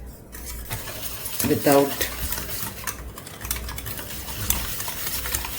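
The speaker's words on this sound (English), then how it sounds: "First let's mix all this and then only we'll start cooking." Flour and other ingredients being stirred in an unheated pan for eclair dough, a steady scraping and mixing with utensil clinks against the pan, a voice speaking briefly.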